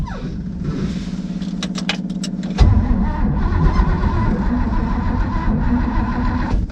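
An old GMC truck engine, sat unused for 30 years, sputters and dies as it runs out of gas: a loud, close idling drone with clicks shifts abruptly into rough, uneven rumbling, with no voices heard.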